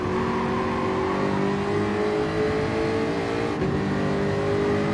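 Old Jaguar race car in Gran Turismo 7 holds a loud, throaty engine drone, pitch climbing gradually under acceleration with one short dip near the end, no voices.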